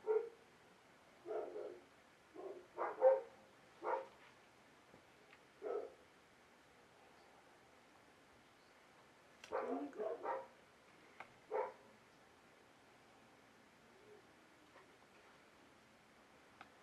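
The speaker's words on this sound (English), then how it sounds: "Here's my dog Spark of the Storm." A pet dog barks in short, separate bursts indoors, with a cluster early on and another around the middle, each yelp fairly close, with quiet gaps between and a faint ticking in the background.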